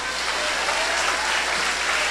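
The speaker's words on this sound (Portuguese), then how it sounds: "Aplauda o Messias para que o diabo ouça." A church congregation claps together in steady, dense applause that fills the space evenly and holds at a moderate level from start to finish.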